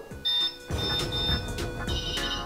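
A toy flip phone gives a short electronic ringing tone, bright repeated beeps over faint background clatter, fairly close.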